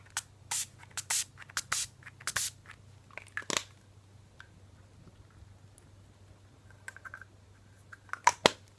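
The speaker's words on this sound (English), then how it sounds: "And I go ahead and take my Urban Decay setting spray." Urban Decay makeup setting spray misted close up in a series of short, sharp bursts of hiss, several in quick succession early on, then a pause and a few more puffs near the end, over a low steady hum.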